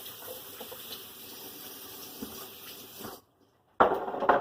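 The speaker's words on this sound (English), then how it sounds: "Let me wash my hands up again." Kitchen tap water runs steadily as hands are washed, then the flow is shut off briefly and gushes back on loudly near the end.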